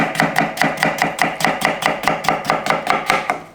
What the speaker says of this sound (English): then just cut your strip to get your slices